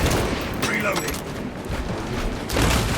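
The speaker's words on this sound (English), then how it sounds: "Reloading" In Warhammer 40k Space Marine 2, a gun reloads amid battle: mechanical clicks and clacks sit under booming gunfire and rumbling explosions, and a voice speaks over the noise.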